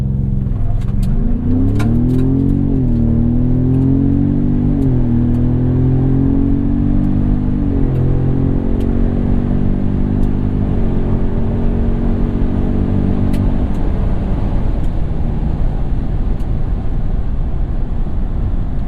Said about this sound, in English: do a full 0 to 60 launch